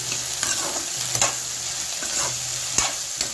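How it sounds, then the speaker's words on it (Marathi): Okra and coriander fry in a pan with a constant sizzle while a spatula stirs and scrapes in irregular strokes, close by and without voices. "आता याला छान परतून घेते।"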